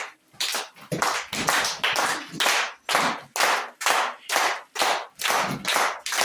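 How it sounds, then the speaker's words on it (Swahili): A church congregation clapping hands together in a steady rhythm, about a dozen loud, even claps over several seconds with no instruments and no talking. "Piga makofi."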